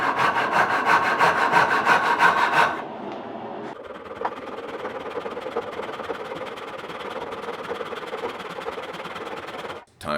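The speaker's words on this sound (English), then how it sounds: "First, I'll saw out a rough blank from this larger piece" A hand saw cuts a rough knife handle blank from a larger piece of wood, with fast, rhythmic rasping strokes that are loud at first, then quieter, steady sawing continuing until a brief stop near the end.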